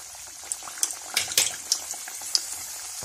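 Virudhunagar parotta fries in hot oil in a kadai, a close, bright sizzle with scattered sharp pops and spits of oil over a constant low bubbling.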